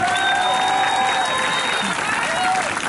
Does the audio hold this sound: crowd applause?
yes